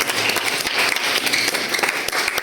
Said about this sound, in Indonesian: Tepuk tangan semuanya yuk.